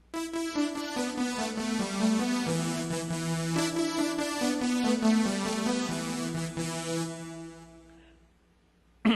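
A bass guitar plays a short run of notes, repeated plucked tones moving up and down, then the last note rings out and fades to quiet.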